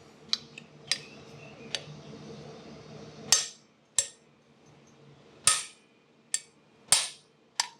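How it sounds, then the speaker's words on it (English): Impact driver loosening the chain cover screws on a 1977 Honda XL350 motorcycle: about ten sharp, loud metallic cracks at irregular intervals, close by, over a faint background hum. "You always want to use an impact hammer or impact driver."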